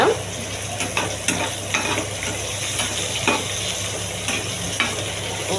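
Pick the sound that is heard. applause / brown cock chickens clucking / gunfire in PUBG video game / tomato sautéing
tomato sautéing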